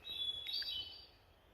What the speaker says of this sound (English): I'm hearing some bird songs.